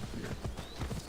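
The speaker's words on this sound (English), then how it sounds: "let me see if I can get my horse here. Come on, horse." Horse hooves clip-clopping in Assassin's Creed Odyssey, a steady run of repeated hoof beats at moderate loudness with no talk over them.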